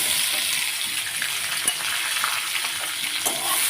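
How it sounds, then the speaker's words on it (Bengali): Mixed fruit fries in a small amount of oil with whole cumin for a fruit chutney, giving a steady close sizzle with occasional light clinks of stirring throughout. "অল্প একটু ভেজে নেব"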